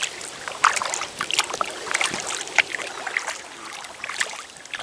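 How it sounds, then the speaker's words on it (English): A kayak paddled gently along the River Stour in Kent under overhanging trees: soft, repeated paddle strokes and trickling water splashes close to the boat, steady and unhurried, with no voices. "Paddling through a tunnel of trees."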